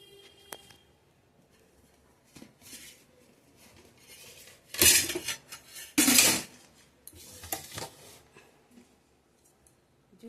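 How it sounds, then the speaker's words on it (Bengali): Dishes are washed by hand with intermittent scrubbing and rubbing, broken by two louder bursts of splashing or rinsing, then a few lighter scrapes and clinks, fairly close by with no talking. "বাসন ধুয়ে নিচ্ছি"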